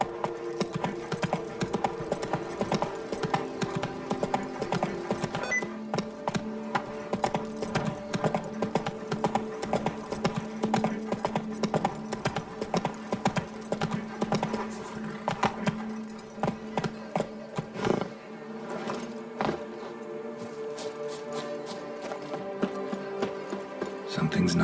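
Roach the horse trots in The Witcher 3, hooves clip-clopping in a quick, steady rhythm under a busy layer of game music and effects, with a voice speaking briefly.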